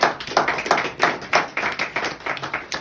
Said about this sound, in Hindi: मुझे लगा तालियां पड़नी चाहिए